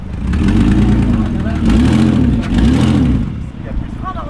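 A turbocharged BMW 530i tuned to 400 hp, its engine rumbling loudly up close and swelling in several rising and falling revs while people talk over it.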